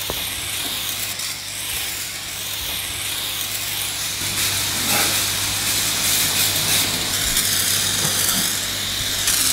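A spray bottle hisses steadily and loudly throughout, with a constant low hum beneath and no voices.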